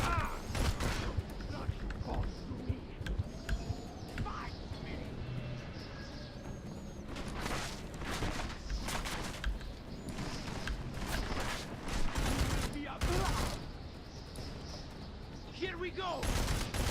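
Gunfire in Deus Ex: Mankind Divided: scattered loud shots and short bursts ring out amid game ambience, with someone talking between them.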